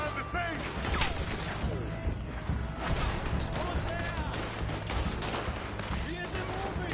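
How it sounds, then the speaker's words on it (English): A dense, continuous shootout from the video game Red Dead Redemption 2, with overlapping rifle and pistol shots cracking near and far in a loud, sustained barrage. "Just keep shooting!"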